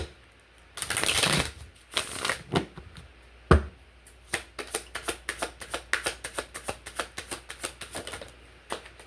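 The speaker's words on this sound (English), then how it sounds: "Let me shuffle one more time." Tarot cards are shuffled up close: a whooshing riffle first, then a quick run of crisp, rhythmic snaps as the deck is worked repeatedly.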